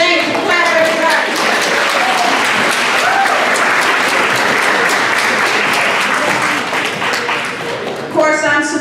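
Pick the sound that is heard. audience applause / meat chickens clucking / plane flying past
audience applause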